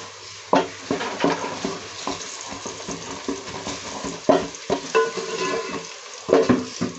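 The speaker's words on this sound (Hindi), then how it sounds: "इसमें मैं ऑयल में इसको फ्राई कर रही हूँ।" Onions with ginger and garlic frying in oil for a mixed vegetable curry, a steady sizzle broken by repeated scraping stirs and occasional clinks of utensil against the pan, close and fairly loud with no talk.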